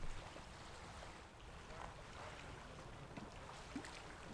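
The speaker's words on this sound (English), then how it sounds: "I finally reached the shores of Loch Lomond itself, with its waves gently lapping against the shore." Small waves lapping against the lochside shore of Loch Lomond in Scotland, heard as a steady soft wash with light wind noise and faint splashes near the water's edge, no talking.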